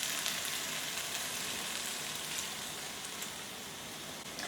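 Blanched peas cooking in a pan with methi malai, giving a dense, even sizzle and bubbling hiss that runs unbroken and close throughout, with no talk.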